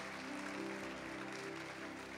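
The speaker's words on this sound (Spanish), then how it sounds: "Démosle un aplauso fuerte al Señor." A church congregation applauds in praise during a service: a faint, steady wash of clapping from a distant crowd.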